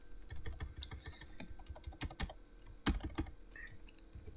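Someone types PHP code on a computer keyboard in a fast, continuous flurry of close clicks and key taps, with a few heavier strokes standing out, and no voices.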